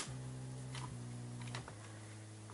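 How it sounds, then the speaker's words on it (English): A deep sub bass line for beat making plays as a steady sustained low tone that shifts pitch once or twice, loud and alone with no talk. "because it's a sub bass, so it's kind of deep,"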